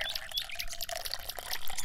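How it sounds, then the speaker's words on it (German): Water trickles and drips as a small container is refilled for toy farm animals, soft, close and uneven little splashes with no voices over it. "Und das Wasser auffüllen."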